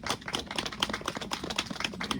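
A quick, dense run of hand claps at a coffee morning: sharp, close slaps repeating steadily for a couple of seconds with no pause.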